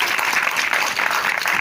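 A crowd claps steadily at a ceremony welcoming people to the Canton Amont of Lastourville. The applause is dense and sustained, fairly loud, with no break across the short stretch.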